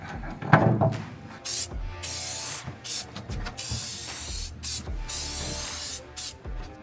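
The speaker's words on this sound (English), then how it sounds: "Then we can hit it with our little spray can" Short bursts of hissing spray from an aerosol paint can, repeated in quick irregular pulses with brief pauses, close by and without speech.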